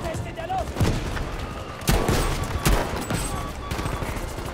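Gunfire in the Battlefield V video game: a few loud, close shots and rapid bursts crack over a dense battlefield din, with someone talking through the noise.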